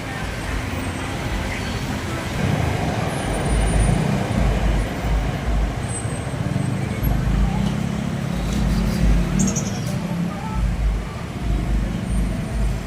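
Busy street traffic in Cubao, Manila: a constant rumble of cars, buses and trucks with low engine drone close by and passing vehicles, continuing without a break.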